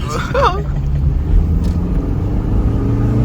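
Nissan 240SX engine droning steadily while driving on curvy roads with a view, a loud continuous low rumble filling the whole stretch, with a brief voice near the start.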